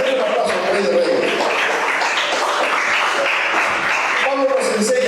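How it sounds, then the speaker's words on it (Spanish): A church congregation applauds during a Spanish-language sermon, steady full clapping held for several seconds with voices mixed in and a swell of cheering near the end. "Un aplauso al Rey de Reyes."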